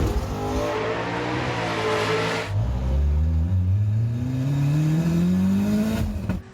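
A 2G Mitsubishi Eclipse GSX revs loudly on a launch, its engine note climbing steadily in pitch after a brief dip, close and continuous with no talk.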